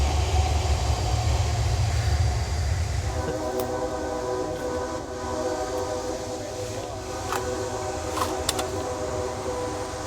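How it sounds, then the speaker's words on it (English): A train rolls past close to a wooded plantation cemetery in Georgia, a loud sustained rumble with rising horn-like tones and rattling that fills the whole stretch without any voices. "I thought that train was about to come through the cemetery as loud as it got."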